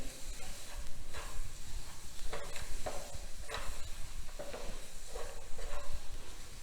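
Khoa, milk powder, sugar, salt and cardamom powder are stirred and roasted together in a pan for khavyachi poli, a steady sizzling hiss broken by repeated scraping strokes of the spoon, close and continuous.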